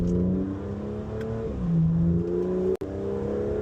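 The engine of a 2025 Aston Martin Vanquish accelerates, a deep, loud drone rising in pitch through the gears with a brief shift dip, heard alone from inside or near the car.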